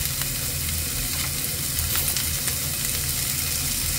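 Bihon rice noodles with green bell pepper stir-frying in a pan, a steady close sizzle and crackle with occasional scrapes of stirring, running continuously without speech.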